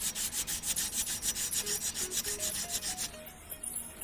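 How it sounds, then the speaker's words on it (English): A wooden part gets its edge hand-sanded in quick, even back-and-forth rubbing strokes, close and fairly loud, with a few faint tones in the background and no talking. "So just maybe sand off the edge here."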